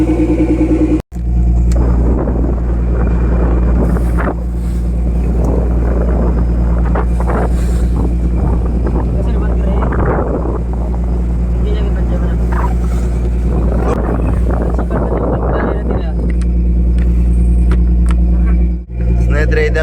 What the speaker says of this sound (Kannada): ಇವತ್ತು ನೋಡಿ ಗಾಳಿ ಶುರು ಆಗಿಬಿಟ್ಟಿದೆ